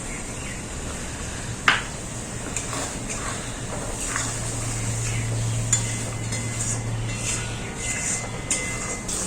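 Bengali masala spice paste being stirred and fried in a pan, a continuous soft sizzle with occasional spatula scrapes and taps against the pan and a low steady hum underneath, close and moderate in level.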